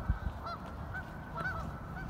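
Geese honk repeatedly, several loud nasal calls rising and falling over a low rumbling background, with no voices, as an RC boat chases them away from a fishing spot.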